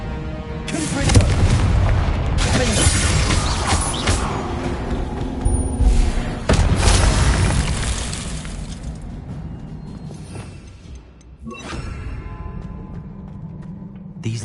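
Confringo blasting spell explosions in Hogwarts Legacy, several loud booms with shattering crashes and rumbling debris in quick succession, fading between blasts.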